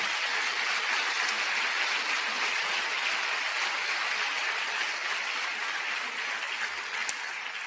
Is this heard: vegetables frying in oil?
no